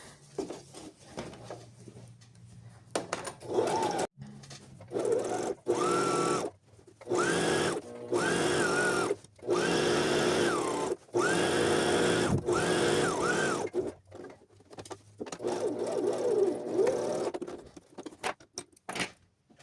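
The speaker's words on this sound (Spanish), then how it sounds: "lo voy a poner del lado contrario para ir cosiendo todo el borde de arriba y también los extremos de inicio y final" A sewing machine stitching along the top edge and ends of trousers, running in loud sustained whirring bursts separated by brief pauses, with soft handling sounds between runs.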